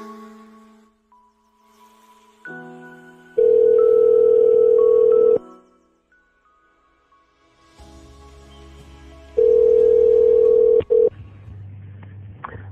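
Phone call being placed: tones and keypad beeps, then two long steady electronic tones separated by quiet, loud and close with no talk.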